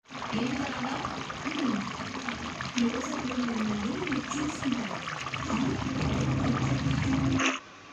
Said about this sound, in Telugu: నేను వాటర్ అయితే వేసుకుంటున్నాను